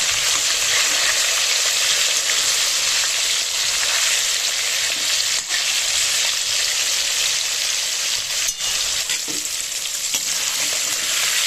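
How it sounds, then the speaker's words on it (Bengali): Hilsa fish pieces sizzle steadily in hot oil in a pan, a loud continuous frying hiss with a couple of brief dips as a piece is flipped over. "একটা পিস ভাজা হয়ে গেছে এবার অন্য দিকটা আমি উল্টে দিচ্ছি"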